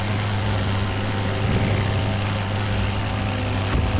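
A WWI-era aircraft engine in the flight game Wings Over Flanders drones steadily with a loud, continuous propeller hum and no break across the whole stretch.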